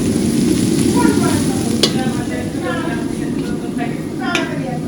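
Chicken cooking in a pan at an outdoor celebration meal, a loud steady sizzle and frying hiss with occasional clinks of stirring, while people talk nearby over it.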